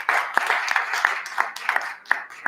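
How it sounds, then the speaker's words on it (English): A small youth gathering gives scattered applause: a handful of distinct, uneven hand claps rising above a thin murmur, close and moderately loud. "Give him a round of applause one more time"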